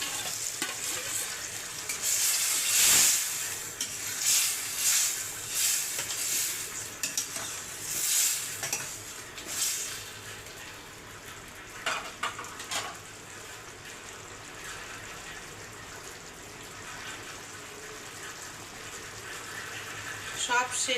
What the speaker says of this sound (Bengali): লেবুর রসটাও দিয়ে দিলাম, দিয়ে এবার পনিরগুলো মিশিয়ে দিলাম।